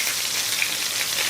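Hissing, crackling sizzle of chicken frying in a pan, steady and fairly close, with no voices.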